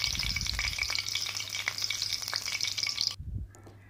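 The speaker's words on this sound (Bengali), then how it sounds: "ফোড়নটা ভাজা ভাজা হয়ে গেছে" Bay leaf, whole garam masala (cloves, cardamom, cinnamon) and cumin seeds sizzle and crackle steadily in hot oil, close and continuous, with light stirring scrapes before a sudden stop.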